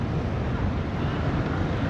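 Strong winter wind blowing outdoors in Çanakkale, Turkey, a steady loud broadband roar buffeting the microphone with no break.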